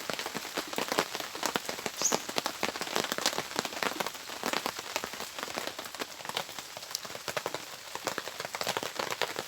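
Steady rain pattering on surfaces outdoors, dense and continuous with many sharp drop impacts, fairly close and unbroken throughout with no voices.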